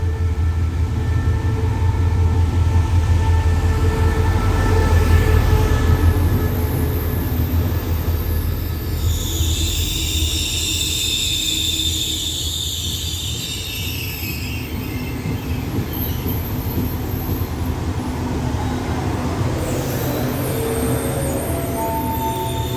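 Trains passing on the Ban Pong railway line in heavy rain: a loud, steady rolling rumble of wheels on track, with high metallic wheel squeals rising midway and again near the end, and no talking.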